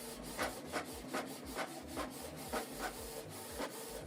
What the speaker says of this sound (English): So it's now printing the second page.